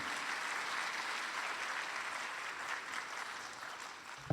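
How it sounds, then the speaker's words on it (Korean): Steady applause from an audience at a memorial church-history forum, welcoming a professor to the stage; continuous clapping fills the room throughout, with no speech. "우리 나오실 때 우리 큰 박수로 우리 환영해 주시면 감사하겠습니다."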